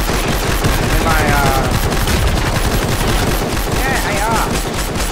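Dense, sustained automatic assault rifle fire in the video game Fortnite, loud and continuous, with rapid overlapping shots throughout.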